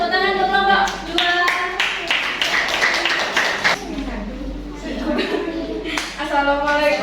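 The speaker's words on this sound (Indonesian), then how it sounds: "Tepuk tangan untuk kelompok 2" A classroom group claps for group 2, a burst of scattered hand claps in the middle with voices talking before and after it.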